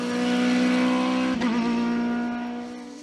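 Norma M20 FC 2-litre race car in the CN2 class on a hillclimb, its engine screaming loud and close at high steady revs, with a brief gear change midway before the note fades slightly.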